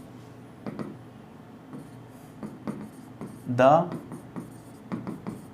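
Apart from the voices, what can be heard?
writing on a board during a lecture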